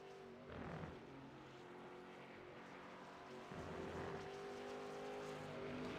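Racing truck engine from a truck series in a racing video game, droning low at low RPM while braking into a bus stop chicane, a steady rumbling tone that swells louder toward the end.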